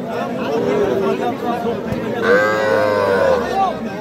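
At a busy cattle market a Nepali Gir bull calf lets out a long, drawn-out moo that rises out of a steady hum of crowd chatter and nearby voices.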